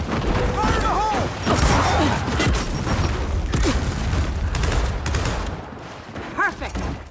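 A loud video-game battle in which a grenade blast booms amid rapid overlapping gunfire and mechanical clatter, with short shouted voices breaking through near the end.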